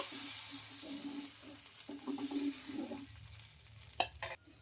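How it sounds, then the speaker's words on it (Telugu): Dosa batter made with bottle gourd and oats is ladled onto a hot pan and spread, giving a steady soft hiss and scraping with a few louder clinks near the end. "ఇలా మనకి ఎంత కావాలో అంత పిండి అయితే వేసుకొని ఇలా బాగా స్ప్రెడ్ చేసుకోవాలి"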